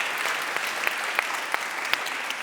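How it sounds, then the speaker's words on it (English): Applause from the room rewards the panelists at a policy event on antimicrobial resistance, a steady even patter of many hands with a few sharper claps standing out. "give a round of applause to our great panelists here"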